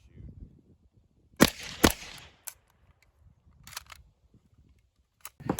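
Shots from a POF-5, a Pakistani MP5 clone, fired outdoors: two loud sharp reports close together, then a few fainter shots spaced apart, with low rumbling background between them.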